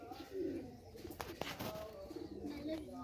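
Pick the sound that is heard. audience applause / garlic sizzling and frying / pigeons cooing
pigeons cooing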